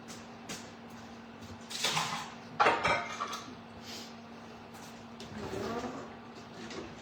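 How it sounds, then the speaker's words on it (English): Dishes from a home baking session clatter as they are set into a kitchen sink, with a burst of clinks and knocks in the middle over a low, steady background hum. "Go put all these dishes in the sink real quick and make ourselves some room."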